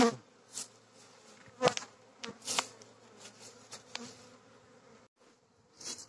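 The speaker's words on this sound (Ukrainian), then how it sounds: "Бджіл предостатньо." Honey bees buzzing in an open hive during a cold spring inspection, a close, soft swarm hum with individual bees zipping past the microphone in brief louder passes, no talking.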